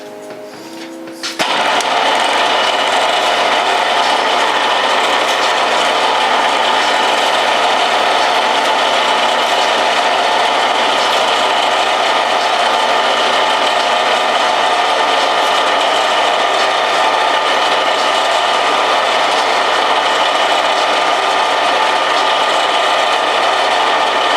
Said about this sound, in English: this is winding the coil on a lathe